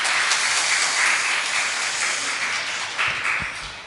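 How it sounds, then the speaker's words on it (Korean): A church congregation applauds the Esther women's mission choir after their hymn at a second-Sunday-of-Easter service: dense, steady clapping that fills the room for the whole stretch, easing slightly toward the end with a few louder bursts. "에스더 여선교회에게 다시 한번 격려의 박수 부탁드립니다"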